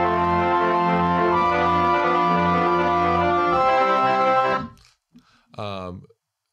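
Gritty, sustained lo-fi sampler chords ring out loud and slightly distorted, changing a few times before cutting off, followed by a brief short stab.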